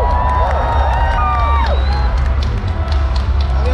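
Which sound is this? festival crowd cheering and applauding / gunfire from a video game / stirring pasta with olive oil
festival crowd cheering and applauding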